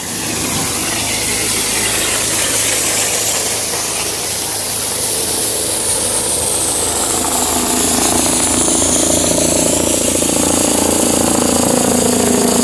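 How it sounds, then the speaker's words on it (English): An air compressor forces air through an inground sprinkler system during winterizing, producing a loud, continuous hissing blast of air and mist that slowly shifts in pitch over several seconds. "And you heard my compressor just kick back on."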